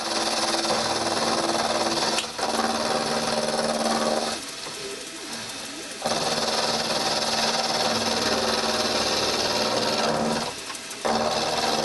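A mini lathe runs under a light cut, a steady close mechanical whir with a faint rasping edge, briefly dropping quieter twice as the cut pauses, no talking.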